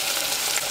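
Chopped tomato, ketchup and salt sauté in a hot pan, giving a brief, steady, close hiss of sizzling.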